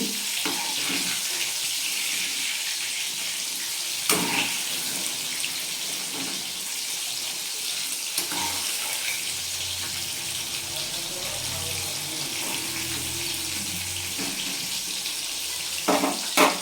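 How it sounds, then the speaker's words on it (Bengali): Breaded chicken fingers frying in hot oil in a pan, giving a steady, even hiss of sizzling throughout with a few faint clicks, and no talk. "দেখতে পাচ্ছ বন্ধুরা এটা ভাজা হচ্ছে"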